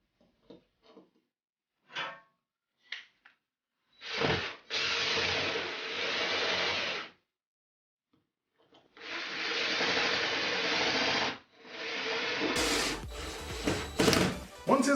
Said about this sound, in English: Now we're going to install the bracket, and we're going to put these screws in.